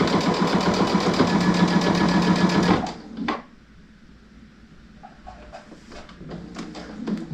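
A sewing machine stitches a placemat in a rapid, loud mechanical whir for about three seconds, then stops abruptly, followed by a few quiet clicks and handling sounds.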